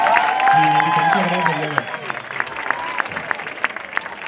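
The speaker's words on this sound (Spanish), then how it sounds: "aplauso fuerte" A crowd claps after a spoken thank-you, at first under voices and sustained music, then thinning into scattered, distinct claps near the listener toward the end.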